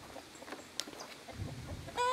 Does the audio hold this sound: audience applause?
no